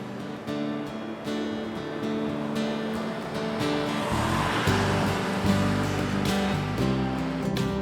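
Waves surging and crashing against sculpted sea cliffs in Scotland with a broad wash of surf, swelling louder midway, under a soft musical backdrop.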